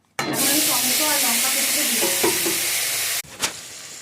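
Spices hit hot oil in a wok-style kadai for a vegetarian pasta, bursting into a loud, close, steady sizzle that stops abruptly after about three seconds. A brief voice is heard under the sizzle.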